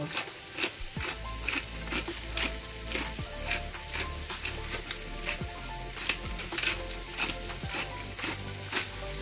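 Potatoes frying gently over low heat in a pan give a continuous close sizzle, with regular stirring scrapes and soft taps recurring every second or so, and no talking.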